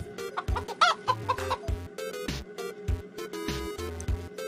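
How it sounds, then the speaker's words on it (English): A giant mutant chicken, an animated cartoon creature, clucks in a rapid series of short, loud bursts over a busy music score, with no voices. "A giant mutant chicken wasn't part of the equation."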